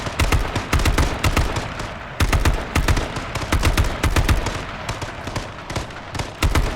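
Dense gunfire from the battle royale game H1Z1 rattles loud and close in rapid bursts and sustained automatic volleys with only brief pauses.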